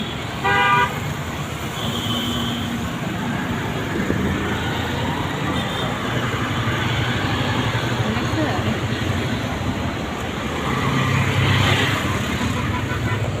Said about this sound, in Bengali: আমাদের হাতির ঝিলে ট্রাফিক পুলিশ নেই তো ওই জন্য মানে যে বিজলির মতো গাড়িগুলি চলে